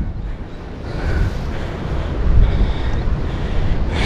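Strong wind gusting over an exposed spot above deep water by the sea, a loud continuous roar with buffeting microphone rumble that builds toward the middle, with no talking.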